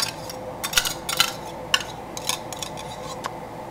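Six egg yolks going into a bowl set in a pan, heard as clinks and scrapes of a utensil against the bowl in a few close, irregular bursts, with no talking.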